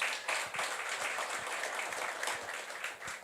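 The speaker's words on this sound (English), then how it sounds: "big round of applause?" Audience applause at a Western Cape consultation workshop on a business licensing bill, steady clapping from a room of people that swells and fades over a few seconds with no voices on top.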